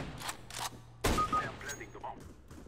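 Gunfire in the CS:GO video game, on the Mirage map: several sharp, loud shots in quick bursts, with short gaps between them, and the last burst is the strongest.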